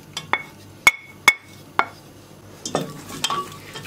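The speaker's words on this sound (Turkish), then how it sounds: "Soğanlar pembeleşene kadar kavuruyorum." Chopped dry onion stirred in oil in a pot, with a few sharp spoon knocks against the metal and a soft sizzle under scattered scraping sounds, close by and without speech.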